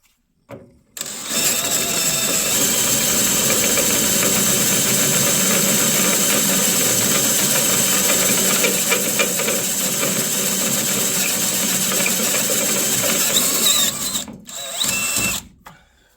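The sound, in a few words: power drill drilling holes in metal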